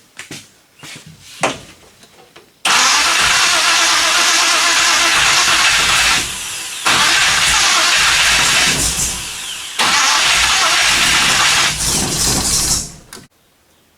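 The engine of a 1957 Chevy 210 cranks in three long, loud, harsh bursts separated by short pauses but never catches, preceded by a few faint clicks.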